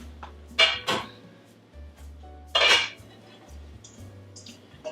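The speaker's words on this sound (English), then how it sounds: "So I'm going to put our kale" Kale goes into a cooking pan with a few clanks and rustles of metal cookware, two or three sharp bright knocks over a low hum of kitchen background.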